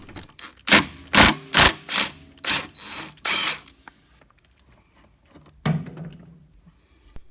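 A hand ratchet with a 7/16 socket loosening the idler pulley bolt on a lawnmower, several loud close bursts of clicking and turning in an uneven rhythm, then a quieter pause and one more short burst.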